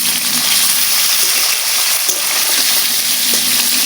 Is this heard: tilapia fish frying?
yes